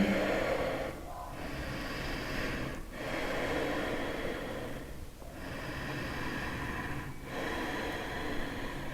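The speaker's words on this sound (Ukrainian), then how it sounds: "не забуваємо дихати рівно, глибоко, подовжуючи вдихи і видихи" Slow, deep, even breaths in and out during yoga practice, close and soft, rising and falling in a steady rhythm of about four full cycles.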